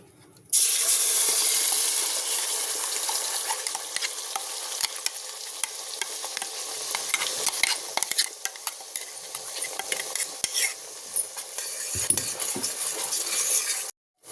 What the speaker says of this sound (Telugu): ఇప్పుడు మిక్సీ పెట్టుకున్న పేస్ట్ వేసుకుందాం